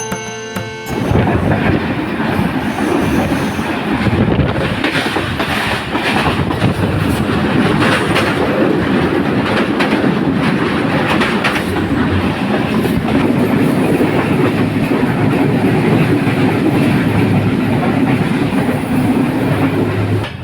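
The Banalata Express on the Dhaka to Rajshahi line runs loud and close as it nears Chatmohar station, a continuous heavy rumble with rhythmic wheel clatter on the rails and no speech.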